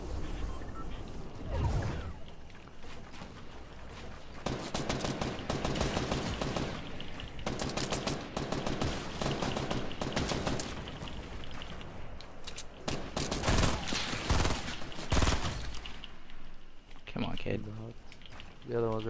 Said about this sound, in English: There's another team shooting at him right now.